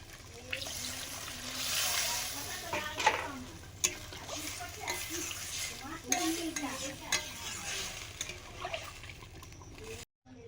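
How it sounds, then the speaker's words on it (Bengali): Chicken curry masala on the stove after water has been poured into the fried spices, giving a bubbling, stirring simmer with scattered utensil clinks and scrapes. It stays fairly steady and moderately loud, with no talking. "মশলা কষানোর পরে পরিমাণ মতো জল দিলাম।"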